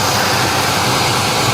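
Engine of a 1979 GMC Caballero, revived after sitting abandoned for years, runs in a steady, dense, broadband rumble close up, unbroken and without talk.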